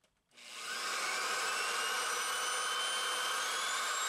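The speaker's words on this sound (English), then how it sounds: "I'm going to use a long masonry bit to create a pilot hole for my masonry hole saw to" A long masonry bit drills a pilot hole through exterior brick, rising quickly to a loud, steady whining grind that holds for several seconds close by, with no talk.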